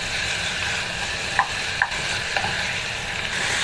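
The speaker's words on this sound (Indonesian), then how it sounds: "Ini ayamnya ditumis hingga matang." Chicken stir-frying with spice paste in a hot pan gives a dense, continuous sizzle with a few soft utensil clinks, close up and with no one talking.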